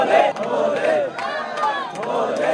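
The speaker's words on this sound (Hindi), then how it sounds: "भीड़ बहुत ज्यादा है भाई।" A large crowd of pilgrims queues at Kedarnath temple, producing a dense, continuous murmur of many overlapping voices with occasional louder calls rising above it.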